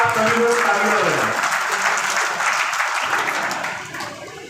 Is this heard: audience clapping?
yes